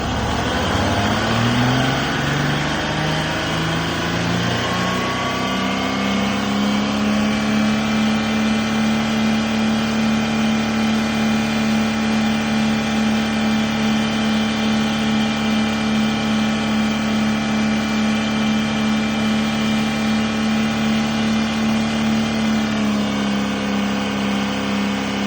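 A Mercedes W126 560SEL engine during mixture adjustment, first revving up, then settling into a long, steady, even idle heard close, with a slight dip in pitch near the end.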